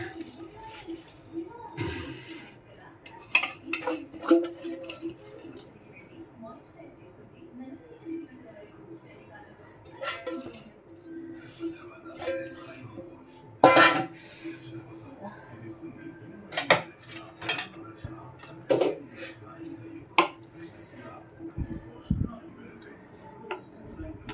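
Raw rice is tipped into a cooking pot for chicken biryani, making scattered rattling bursts and clatters over about twenty seconds, with a person talking throughout.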